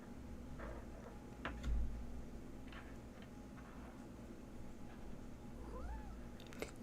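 A cat meows softly a few times at a distance against a quiet indoor room background.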